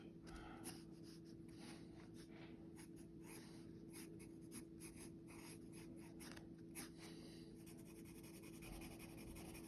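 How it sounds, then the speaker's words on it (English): A pencil sketches on paper in quick scratchy strokes, close and quiet, with a steady hum in the background and no talking. "I just want you guys to kind of get the idea of how I draw, how I sketch."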